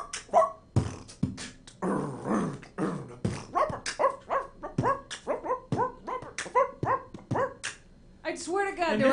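A voice imitates a dog, letting out a quick run of rhythmic barks, yips and whimpers, loud and close, mixed with his speech.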